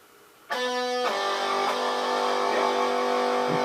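A distorted electric guitar sounds a sustained major third interval, struck once and then again, ringing gritty and buzzing with a harsh, beating edge.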